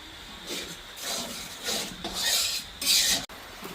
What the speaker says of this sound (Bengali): এবার এপাশে ওপাশ মিলে সুন্দর করে নাড়াচাড়া দিয়ে মিক্স করতে হবো